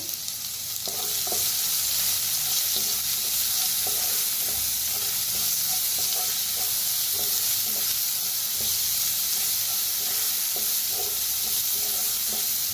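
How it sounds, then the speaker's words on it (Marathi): Curry leaves and coriander roast in a pan with ground masala paste, giving a loud, steady hiss and sizzle with repeated light scraping stirs, close up. "आता भाजून घेऊया. कढीपत्ता आणि कोथिंबीर टाकलेला आहे."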